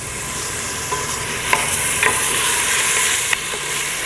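Onions sizzle loudly in a hot pan for a turkey bolognese, a steady close frying hiss with occasional soft scrapes of stirring.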